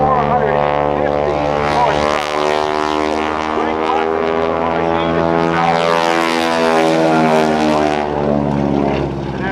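A 450-horsepower Super Stearman biplane roars through airshow aerobatics, its radial engine giving a loud, throbbing drone whose pitch rises and falls as it passes, with a voice talking over it.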